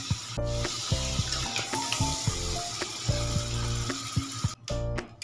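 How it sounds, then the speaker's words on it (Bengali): A spice paste of ground coriander and chili powder sautés with a little water for a potato curry, a close steady sizzle broken by repeated scraping stirs, then a brief dip near the end. "একটু জল দিয়ে কষিয়ে নিই।"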